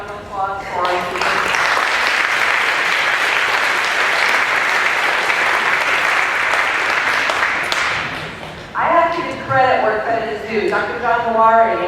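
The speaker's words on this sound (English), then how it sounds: "Can I get a round of applause for our speakers?" A dense round of audience applause after speakers at a university keynote, steady and loud for about eight seconds, then fading as a voice starts talking.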